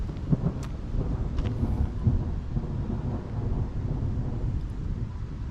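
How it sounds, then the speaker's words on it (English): Thunder rumbles low and continuously during an afternoon thunderstorm, a deep rolling roar with rain and wind noise buffeting the microphone and a few faint crackles. "listen to this thunder"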